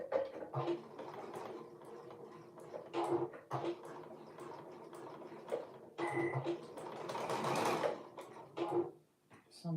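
A sewing machine runs a 3/8-inch seam along a fabric edge, its motor whirring in bursts with short pauses and a steadier, louder stretch near the end, close and without talk.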